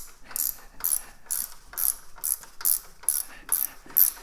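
Ratchet wrench loosening a bolt on a Kohler engine, with about eight crisp clicking strokes in a steady rhythm, close and alone.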